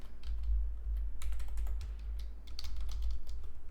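Rapid bursts of keystrokes on a computer keyboard while writing .NET Web API code, close and clear with short pauses between runs of typing.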